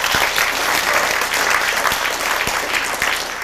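Audience applause at a hacker conference talk on computer viruses, a dense steady wash of clapping from a large crowd lasting throughout, fairly loud and close, with no speech over it.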